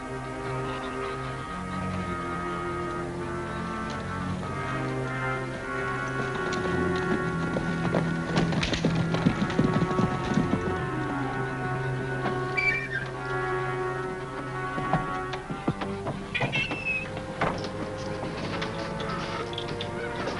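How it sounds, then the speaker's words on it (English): Horse hooves clip-clop at a steady trotting pace under a bed of orchestral music, fairly close, in a 1956 western TV series. "Annie and Lofty just brought in your horse, Hardy."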